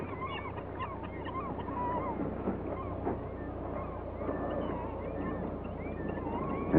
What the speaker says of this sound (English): Invariably, glaucous gulls arrive within a few seconds to clear up the scraps